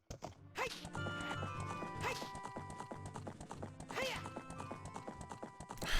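Rhythmic clip-clop hoofbeats of a galloping horse in a Legend of Zelda: Ocarina of Time speedrun, over a busy game soundtrack, with music and effects layered throughout.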